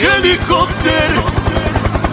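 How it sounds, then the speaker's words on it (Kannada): A helicopter flies close overhead, its rotor giving a loud, rapid, even thudding pulse throughout, with a voice briefly heard over it at the start. "ಹೆಲಿಕಾಪ್ಟರ್"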